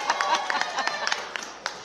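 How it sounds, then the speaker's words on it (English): Audience at a union convention claps in a brief burst of scattered, fairly close applause, sharp individual claps overlapping as a voice speaks over them. "They want to applaud for you a little more."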